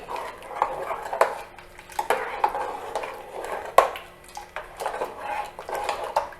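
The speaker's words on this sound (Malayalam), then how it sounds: "ഇനി നമുക്ക് നന്നായിട്ട് ഇളക്കി കൊടുക്കാം." A spoon stirs tamarind curry, Kerala-style pulingari, in a metal pot, with repeated clinks and scrapes against the sides in an uneven, close rhythm.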